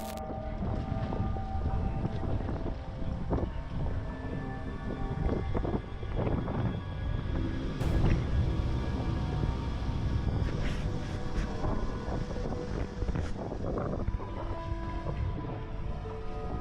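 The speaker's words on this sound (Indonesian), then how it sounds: "pas mereka lagi ngerekam sebuah kapal yang lewat di atas sungai" A boat passes on a river, a low engine rumble with water wash and wind buffeting the microphone, steady and fairly close throughout.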